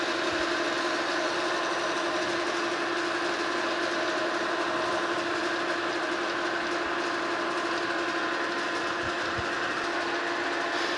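A metal lathe with a four-jaw chuck runs steadily while facing a milling machine arbor, a constant droning whir with layered mechanical tones and no voices.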